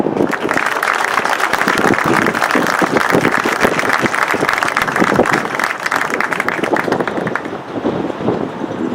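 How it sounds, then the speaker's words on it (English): An audience at a Navy ROTC color parade ceremony gives a sustained round of applause, dense and steady with some outdoor wind rumble, fading a little near the end. "Please join us in another round of applause."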